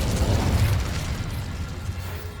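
Incendio fire spell cast in Hogwarts Legacy, a loud whooshing burst of flame with a rumbling boom that swells at once, then slowly fades into a dull roar, heard alone.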